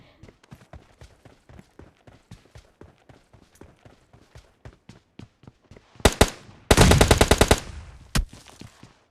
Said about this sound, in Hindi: ये जो गन शॉट्स था वो था एक रियल एनिमी का